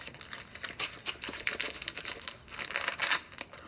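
Rummaging through a wrapped Christmas gift: close, busy crinkling and rustling of wrapping paper in uneven bursts, with small tearing sounds, and no talk.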